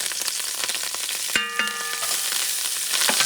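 Sofrito with cilantro sizzles steadily in a pan under repeated scraping stir strokes, a brief clanking ring of utensil on metal cutting through midway.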